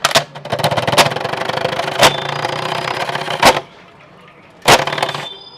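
A bicycle rigged with wire rattles loudly to mimic a Bullet motorbike's thumping exhaust, giving a dense, fast rattle punctuated by sharp cracks, then a brief near-silent pause before another loud burst.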